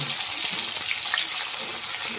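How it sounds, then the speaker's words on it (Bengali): Chopped tomatoes frying with fried onions in a pan, giving a steady close sizzle with a bright hiss throughout and no talking. "টমেটো কুচিগুলো হালকা করে ভেজে নেবো আমি"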